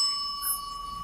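A bright bell-like notification ding rings out once, clear and alone over a steady electronic tone.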